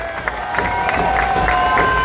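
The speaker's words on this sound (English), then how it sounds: "And a very appreciative Ehtar crowd." Football crowd at an Ehtar Belleville FC Midwest Premier League match cheering and applauding after a goalkeeper's save, a steady roar of voices and clapping throughout, close and fairly loud.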